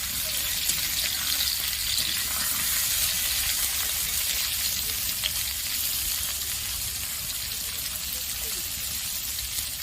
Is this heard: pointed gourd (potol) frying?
yes